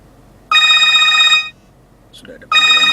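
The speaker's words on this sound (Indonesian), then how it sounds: "Sudah ada panggilan masuk," An iPhone's incoming call rings loudly through the speakers of a Toyota Camry 2.5V: two bright, tonal ring bursts separated by a quiet gap with faint cabin noise.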